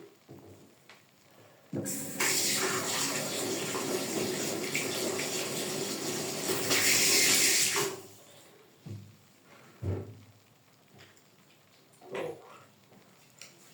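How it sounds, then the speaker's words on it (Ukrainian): Boiling water pours steadily into a cup for about six seconds, a loud close splashing stream, followed by a few soft clinks and knocks. "І додаємо кипятка."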